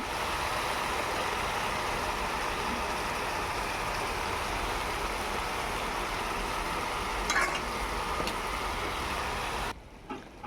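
Steady sizzle of garlic paste frying in a pan while cooking mutton at a family picnic, continuous and fairly close for about ten seconds before cutting off abruptly near the end.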